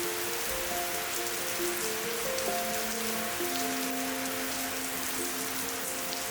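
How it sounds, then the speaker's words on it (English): Heavy tropical downpour on a Thai island, a steady dense hiss of rain falling without letup, close and continuous with faint tonal hum beneath. "Later in the afternoon, we had a tropical downpour."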